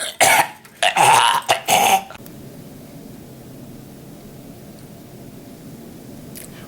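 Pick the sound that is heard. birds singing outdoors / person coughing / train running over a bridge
person coughing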